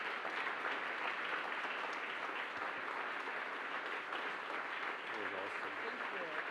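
Steady, dense applause from a conference audience follows a presentation at the Pěšky městem 2023 conference, loud and continuous throughout, with no break in the clapping.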